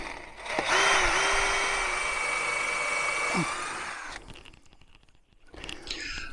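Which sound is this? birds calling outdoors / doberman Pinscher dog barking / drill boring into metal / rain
drill boring into metal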